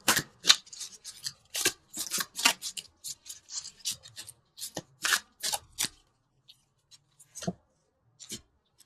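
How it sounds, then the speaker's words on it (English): Tarot cards being shuffled and pulled by hand, a quick run of crisp rasping riffles and slaps that thins out into a few sparse flicks and taps, close and clear with no talking. "let's pull a couple universal love cards"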